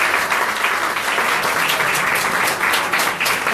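Loud, steady applause from an audience honouring a woman named Florence, dense clapping sustained throughout without pause.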